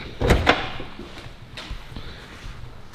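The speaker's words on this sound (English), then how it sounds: "Phil, open up the door" A Ferrari SF90 Stradale car door opens with a couple of close, sharp mechanical clicks and a thud, followed by quiet room noise.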